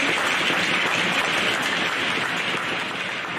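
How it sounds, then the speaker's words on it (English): A crowd applauds absent seniors during a pregame presentation at an Avon Grove high school game, a continuous wash of distant clapping, even and hiss-like throughout. "Please give them a round of applause."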